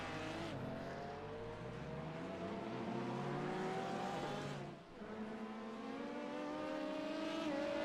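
A Ferrari 488 race car in a racing video game at a Brazil circuit: a loud, continuous engine whine climbs through the gears, briefly dips as it shifts, then rises again, alone without talk.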